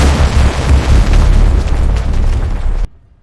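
A loud, close explosion: a sustained booming roar with heavy low rumble that rolls on for nearly three seconds, then cuts off abruptly to a faint tail.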